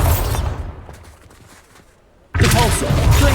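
A Bombarda blasting spell explodes in the video game Hogwarts Legacy, a loud close burst of crackling blast noise that fades away, then a second sharp eruption kicks in suddenly and stays loud.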